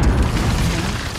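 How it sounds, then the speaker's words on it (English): A loud, close airstrike explosion in Call of Duty: Modern Warfare, one heavy low boom that rolls and rumbles steadily for over a second without fading. "Allied precision airstrike incoming."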